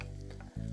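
Onion and grated coconut sauté in a pan for a soya chunks masala, giving a steady, loud close sizzle with a brief dip near the end before the frying hiss resumes.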